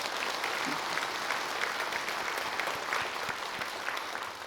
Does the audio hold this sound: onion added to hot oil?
no